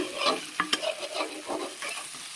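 Soybean and potato curry being stirred and fried in a pan, with a spatula scraping in irregular strokes over a steady close sizzle, no talk.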